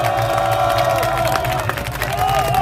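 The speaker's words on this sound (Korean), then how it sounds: "우리 해병전에 박수 한번 쳐주세요." A crowd at an outdoor political rally in Korea claps and cheers continuously, with scattered voices and shouts mixed into the applause.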